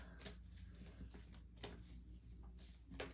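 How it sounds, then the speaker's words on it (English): Tarot cards are shuffled close up in a quiet room, several quick riffling bursts of flicking card edges separated by short pauses, soft and intimate with no talking. "I'm still shuffling."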